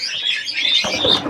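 Pigeons in a loft housing new chicks, including blue, chocolate and Kaldoma birds, chirp steadily and closely, with a few soft coos, no voices present.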